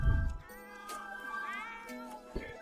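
A cat in The Sims 4 meows in a drawn-out, wavering cry, heard close and clear against a quiet electronic background tone.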